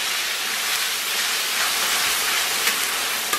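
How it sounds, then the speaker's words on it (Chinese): Chili sauce sizzling in hot oil with scallion and ginger in a wok, a steady loud hiss with faint clinks near the end. "然后咱们给它简单煸炒出红油"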